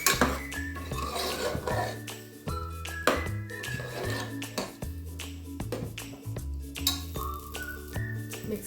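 A spoon stirs ground masala into fried okra in a pan, clinking and scraping steadily against the metal, with sizzling and brief tinkles running throughout.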